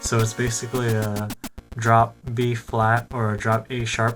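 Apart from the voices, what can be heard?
No everyday noise stands out behind the speech.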